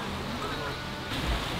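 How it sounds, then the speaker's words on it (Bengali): Ocean waves washing onto a seashore in Thailand, a continuous broad wind-blown roar of surf with a slightly heavier surge near the end, no distinct individual breakers. "এখানে ঢেউয়ের যে সাউন্ডটা মাশাআল্লাহ অনেক সুন্দর"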